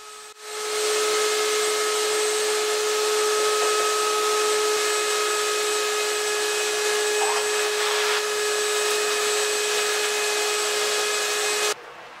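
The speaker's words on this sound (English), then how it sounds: "route out the mortises for the concealed panel connectors" A router table cuts mortises in wood: a steady, loud motor whine with a constant pitch runs for about eleven seconds, then cuts off abruptly near the end.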